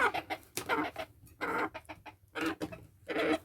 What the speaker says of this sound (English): Listen, chickens.